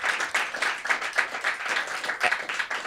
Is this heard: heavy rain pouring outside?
no